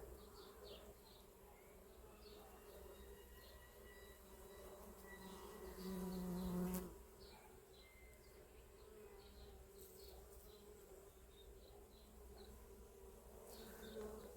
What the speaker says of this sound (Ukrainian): Дивіться, скільки тут бджол, слухайте.